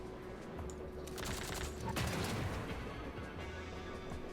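Minigun fire in the train-defense strategy game Fogpiercer comes as a dense, continuous rattling burst at moderate volume, building slightly in the middle before steadying.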